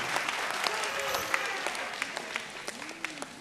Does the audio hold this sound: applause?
yes